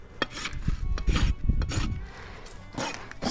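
A farrier's rasp smooths a horse's hoof during a trim, giving loud, rough scraping strokes in an uneven rhythm, several passes with brief pauses between them.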